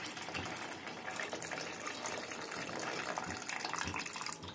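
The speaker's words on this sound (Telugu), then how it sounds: "ఇప్పుడు పులుసు తీసి పెట్టుకున్నాం కదా పక్కన, ఇది పోసేసుకుందాం ఫ్రెండ్స్." Tamarind extract poured into a cooking pot, a steady close splashing gush of liquid that runs unbroken for several seconds with no voices.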